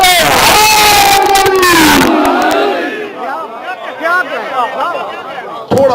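Crowd of believers at a religious gathering chanting slogans in unison, loud massed voices in a strong call that breaks off after about two seconds, followed by a scattered, fading murmur of voices and a brief final burst.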